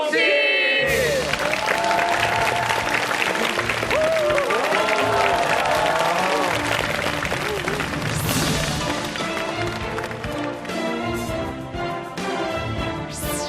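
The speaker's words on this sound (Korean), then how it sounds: "자 오늘 모실 명의를 박수로 맞이해 보도록 하겠습니다." Studio audience applause on a Korean health variety show welcoming a neurosurgeon guest, loud and sustained across the whole stretch with crowd noise and music swelling underneath, easing slightly toward the end.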